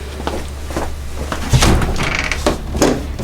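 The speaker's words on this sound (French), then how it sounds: "on va déclencher l'ouverture d'une porte" A door in an escape game room opens with a sliding rumble and a couple of knocking clunks, fairly loud and close, over a low hum.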